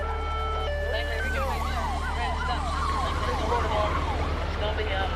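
A police car siren wails in rising and falling sweeps over a low engine drone during a pursuit, fairly loud and continuous for several seconds.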